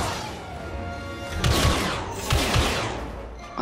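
Blaster fire in Star Wars Battlefront 2, a steady fusillade of sharp shots with heavier thumping impacts in two clusters, loud and close.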